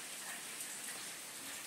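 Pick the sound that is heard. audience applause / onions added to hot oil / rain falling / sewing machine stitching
rain falling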